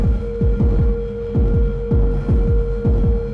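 Eurorack modular drums patched alongside a Befaco Oneiroi synth module: a steady, loud electronic beat of punchy low kick-like thumps repeating about every half second, over a sustained droning synth tone.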